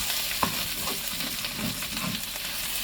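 Wild greens sizzle steadily in a pan of bacon fat, a close, even hiss with a few soft stirring knocks and no talking.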